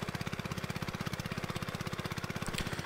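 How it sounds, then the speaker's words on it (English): An old Troy-Bilt garden tiller engine putts along just above idle, a steady low rhythmic thumping of rapid even firing pulses, close and continuous without any voices. "So this old tri-built just kind of putts along, you know, a little bit over idling."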